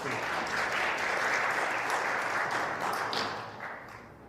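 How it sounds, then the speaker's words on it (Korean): A church congregation at a Sunday service claps in a warm, sustained round of applause, steady for several seconds before fading slightly at the end. "우리 박수로 한번 환영합시다"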